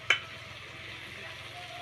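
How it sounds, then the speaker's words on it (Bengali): Water hitting hot fried masala in a pan for Bengali pabda fish curry, a sharp splash at the start giving way to a continuous, close sizzle, with no talking. "কষানো হয়ে গেছে, এবার আমি এর মধ্যে জল দিয়ে দেবো।"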